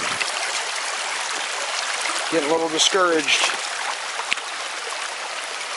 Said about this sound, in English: This creek looks so good.